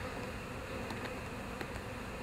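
Dense, steady buzzing of many honeybees at a hive fills the air, continuous and close, with a few individual insects droning past.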